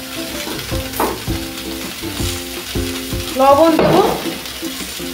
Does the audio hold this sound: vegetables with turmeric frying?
yes